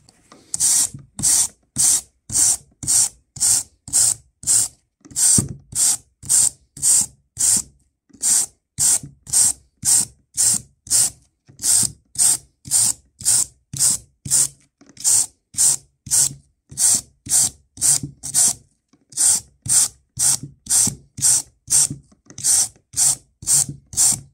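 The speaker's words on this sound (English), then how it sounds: "With a soft wire brush, you can clean it." A soft wire brush scrubs a used grinder sanding disc in steady back-and-forth strokes, loud close rasping bursts repeating rhythmically about twice a second with brief pauses, no voices.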